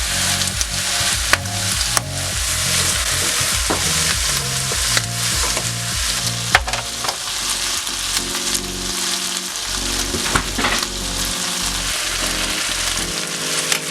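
Dark soy sauce and rock sugar sizzling loudly in a pan for Dan Dan noodles, a dense continuous frying hiss with scraping stirs and clinks of the utensil throughout.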